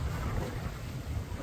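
Steady, strong wind roars across the microphone aboard a sailboat at sea among the Kornati islands, a dense continuous rush with low rumble and no voices.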